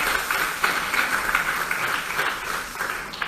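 Church congregation clapping and praising during a sermon, an even wash of many hands at moderate level throughout, with faint scattered voices mixed in.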